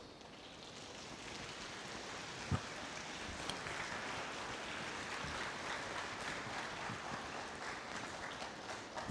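Audience applause at the close of a public healthcare lecture, a steady dense clatter of many hands filling the room at moderate level for the whole stretch, with no voices over it.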